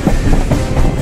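Train running along the tracks on a long-distance journey, heard from inside a crowded general-class coach as a loud, steady rumble with rhythmic wheel clatter.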